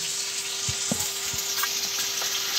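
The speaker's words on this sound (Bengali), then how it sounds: "দেখো, এখানে তরকারি বসিয়ে দিয়েছি আমি। আলু কুমড়ো আর পটল দিয়ে" A curry of potato, pumpkin and pointed gourd cooking in a pan, giving a steady close sizzle and frying hiss with a few soft stirring knocks and clicks.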